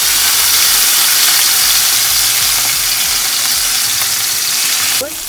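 Salmon fillet sizzling loudly in hot olive oil in a pan, a dense steady frying hiss with crackle that holds throughout, then drops slightly at the very end.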